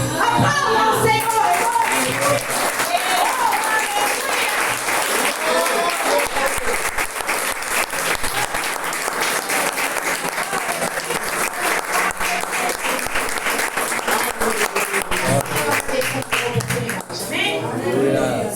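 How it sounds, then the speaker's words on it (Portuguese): A church congregation at a communion service applauds loudly and steadily for the whole stretch, dense clapping with voices calling out over it. "Aplauda o Senhor."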